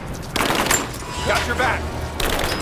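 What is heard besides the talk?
gunfire in the video game Rise of the Tomb Raider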